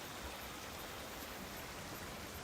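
Waterfall in the video game Planet Coaster 2, a steady hissing rush of falling water, faint and unchanging throughout with no voices over it.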